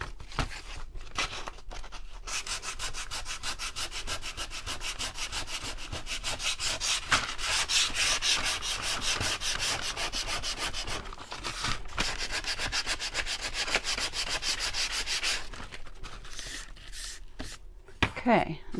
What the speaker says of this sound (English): I'm just sanding on my table here.